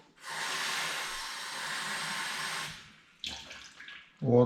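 Water pouring steadily into a cup for no-knead bread dough, a close splashing stream lasting a few seconds, then brief clinks and handling noises.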